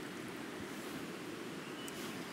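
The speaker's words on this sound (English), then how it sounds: "Sorry about the river noise." A noisy river rushes past a wild campsite tent on a rainy day, a constant broadband roar of flowing water heard continuously and fairly close, with no talking.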